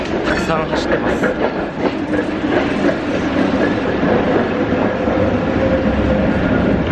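Trams roll through the city streets of Sofia, Bulgaria, a loud, close rumble with rhythmic wheel clatter on the rails that fills the whole stretch.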